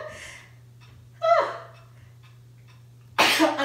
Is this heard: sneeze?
yes